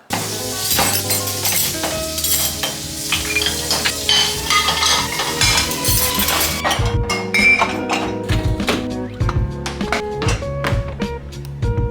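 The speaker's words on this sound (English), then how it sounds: "Now it's time to put the dirty dishes into the dishwasher." Dishes clatter and clink continuously as they are loaded into a dishwasher in a home kitchen, with busy overlapping taps and chinks of crockery and cutlery throughout, close and fairly loud.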